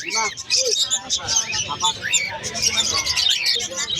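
Small birds chirp and tweet rapidly and close by, a busy overlapping chatter with some murmuring voices underneath.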